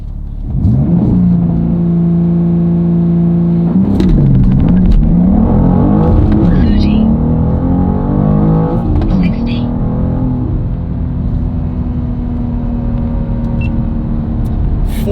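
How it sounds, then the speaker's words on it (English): A BMW M2 G87 launches under manual launch control, its engine droning loud and steady, then rising through several gear pulls with brief dips between shifts, holding close and strong throughout. "we are ready to launch the car"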